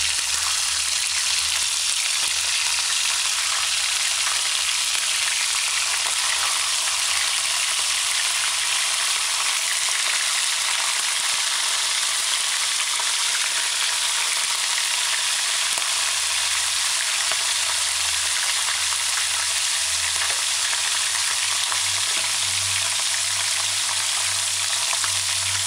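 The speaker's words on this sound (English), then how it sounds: "continue the routine until you finish frying all the fishes." Small sprat fish fry in hot oil with a steady, even sizzle that continues unbroken throughout, close and moderately loud.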